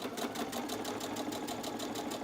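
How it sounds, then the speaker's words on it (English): A sewing machine runs steadily along a fabric edge while back stitching, its needle ticking in a fast, even mechanical rhythm, close and fairly quiet, with no voices over it. "So we're going to sew along the outside first."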